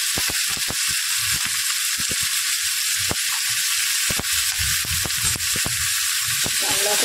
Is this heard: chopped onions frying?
yes